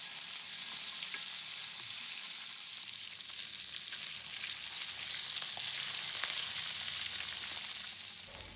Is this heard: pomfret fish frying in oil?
yes